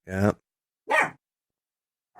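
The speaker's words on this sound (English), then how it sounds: "A dog barking outside." A dog barks outdoors, two short sharp barks about half a second apart and a third just starting at the end, with silence between them.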